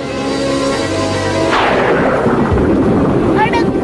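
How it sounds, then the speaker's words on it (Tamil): Thunder from an approaching storm at sea in an animated adventure, a deep, loud broadband rumble that swells suddenly after a tonal passage and rolls on heavily to the end. "என்ன பண்றது, புயல் வருது."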